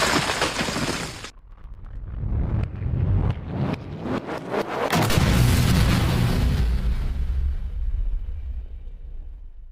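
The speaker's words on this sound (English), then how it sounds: "After the harsh explosion, the protagonist was still alive." An explosion sound effect destroys a valley in a recapped action story: a burst of sharp cracks and booms builds into a heavy, rolling rumble that slowly fades away.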